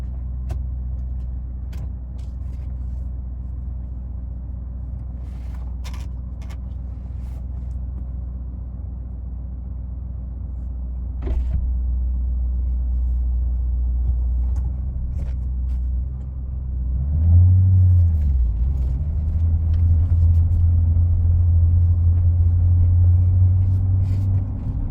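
A 2009 Ford Mustang GT idles and pulls away, its V8 a steady low rumble that grows louder and deeper partway through as it accelerates, with faint clicks and handling noises near the camera.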